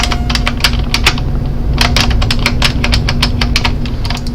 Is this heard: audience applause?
no